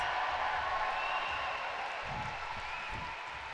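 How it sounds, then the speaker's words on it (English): Crowd at an indoor lead climbing World Cup semi-final applauding and cheering steadily as a new climber joins, a continuous broad wash of clapping and voices at moderate distance. "Huge response from the crowd as well"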